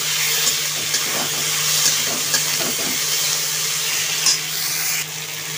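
Garlic and ginger paste frying in a pan for a fish roe curry gives a steady, close sizzling hiss, with a few soft stirring scrapes scattered through.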